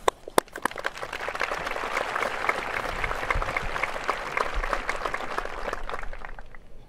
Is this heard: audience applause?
yes